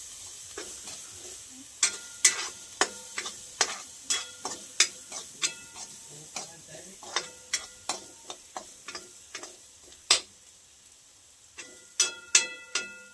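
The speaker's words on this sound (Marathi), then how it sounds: "हिंग पावडर घालून घेऊया. आणि मंद आचेवर थोडा वेळ परतू देऊया याला." Stuffed eggplant masala with turmeric and asafoetida being stirred in a pan over low heat, a steady run of sharp spoon clicks and scrapes against the metal over a faint, soft sizzle, with no one speaking.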